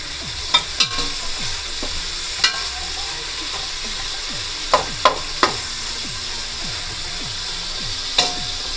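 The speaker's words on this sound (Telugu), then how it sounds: "ఉల్లిపాయ పచ్చిమిరపకాయ వేగిందండి." Onion, green chilli and a little mint fry in a pan, giving a constant sizzle over several sharp scraping clinks as a spoon stirs against the pan, with no talking.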